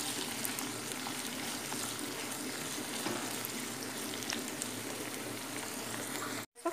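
Chopped onions fry in a pan with a steady, close crackling sizzle, broken by soft scrapes and stirring knocks as they are turned, for a jackfruit curry; the sizzle cuts out briefly near the end.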